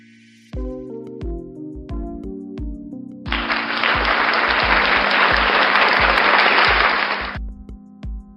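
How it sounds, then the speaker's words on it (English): A burst of applause rises after a few seconds and holds steady for about four seconds before cutting off, over a steady background of sustained tones and regular low thumps. "let's get some applause in here for it being a full moon Friday."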